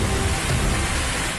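Heavy monsoon rain in Coimbatore pours down in a dense, steady roar of noise with a low rumble underneath, close and unbroken, flooding city streets.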